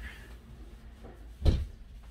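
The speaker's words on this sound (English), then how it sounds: "Let me just close the door." A single close thud of an indoor door shutting, brief and low, with faint room noise around it and no voices.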